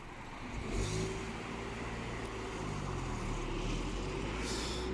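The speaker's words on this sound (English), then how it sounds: "we'll kind of get a shot of the sergeant driving away" A police sergeant's car pulls away, its engine note rising and drawing out steadily as it accelerates off at moderate distance, with no voices over it.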